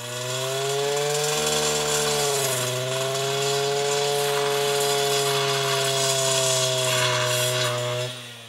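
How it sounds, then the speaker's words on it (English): An Oleomac brush cutter with a three-tooth blade clearing shrubs, its two-stroke engine droning loudly and steadily, the pitch dipping briefly as the blade bites into growth before settling back to a high, even whine. "Oleomac brush cutter helped them a lot."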